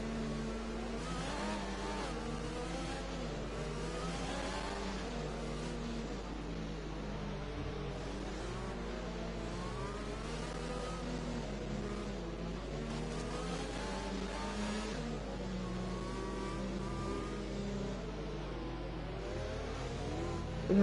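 Racing game engines droning steadily at the Singapore GP under the safety car, a dense continuous blend of several cars with wavering pitch, loud and close throughout.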